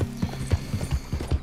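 Horse hooves clip-clop at a steady walking rhythm in the online western game Red Dead Online, close and clear over faint background game ambience.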